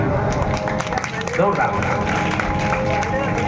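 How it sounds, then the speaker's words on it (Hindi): Audience applause at a devotional bhajan singing event, a dense steady wash of many hands clapping throughout, fairly loud and continuous, with some voices mixed in. "तालियां बजा लो अपने"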